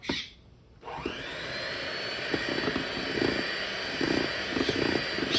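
Electric hand beater whipping mango mousse, a steady whining mechanical drone after a brief pause, with irregular churning and scraping against the bowl throughout.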